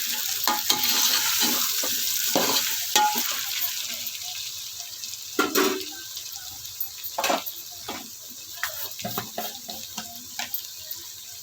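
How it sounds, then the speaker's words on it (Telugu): Tomatoes for a vegetable biryani fry and get stirred in a pan, with a continuous watery hiss followed by sporadic clinks and scrapes of a spoon against the pot; no speech. "ఇప్పుడు టమాటాలు వేసుకోవాలి టమాటాలు వేసుకొని ఒకసారి తిప్పుకొని"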